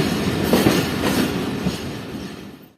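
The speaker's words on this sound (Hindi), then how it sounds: "तो तकरीबन ट्रेन 11:15 बजे निकल चुकी है Drigh road junction railway station से।" Train pulling out of Drigh Road Junction railway station in Karachi, a steady close rumble and clatter of rolling wagons with faint wheel squeal, fading out at the end, with no voices.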